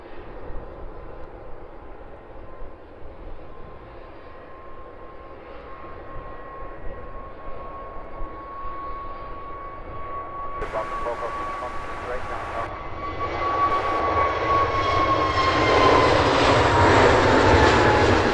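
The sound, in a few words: EasyJet jet airliner taking off at London Luton Airport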